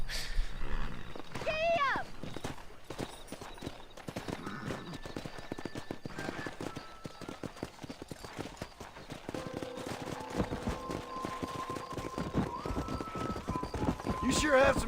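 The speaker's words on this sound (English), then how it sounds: "Let's see if we can't wrangle some horses." Horses clip-clop and whinny while being wrangled with a rope in the Western video game Red Dead Redemption, their hoofbeats steady and fairly faint under talking voices, with game music and a distant animal roar.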